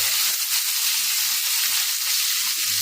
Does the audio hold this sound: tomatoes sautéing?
yes